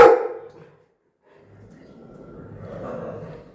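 A dog barks in a quick, loud burst at the very start, then falls quiet before soft, murmuring background sounds and faint voices rise toward the end.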